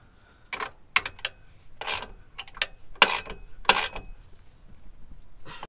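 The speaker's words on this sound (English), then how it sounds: "19 millimeter box end wrench in on the other side. So you just tighten this one down as much as you can." A 19 mm box end wrench ratchets and clicks in short bursts as it tightens a bolt on an aluminum Bell Raceworks diff brace on a Nissan 350Z, with no talking.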